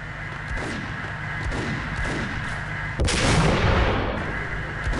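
A single loud sniper rifle shot in the video game Max Payne cracks sharply out of a quiet, murmuring ambience, with a rumbling tail that fades over the next second.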